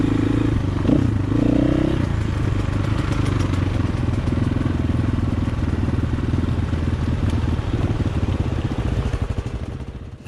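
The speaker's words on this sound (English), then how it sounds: "Now this is our Ben, sat on a CRF 250L Honda." A Honda CRF 250L trail motorcycle rides along a countryside trail, its engine a loud, steady, close thrum with rising and falling pitch early on, then fading slightly at the end.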